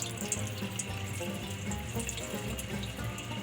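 Quinoa grains being washed under a running tap into a sink, a steady continuous stream of water splashing throughout at moderate level, with no voices.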